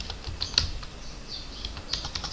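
Quick, light clatter of keys on a computer keyboard while configuring a Debian 11 server, a steady run of close taps with a few sharper keystrokes, no talking.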